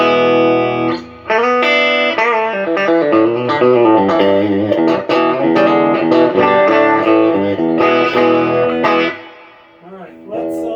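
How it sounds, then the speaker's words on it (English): Peavey Audition 30 guitar amplifier carrying a loud, distorted electric guitar with effects, chords and notes played steadily for about nine seconds before fading to a quiet tail. "Turn this amp on, I guess. Oh, we got some tone."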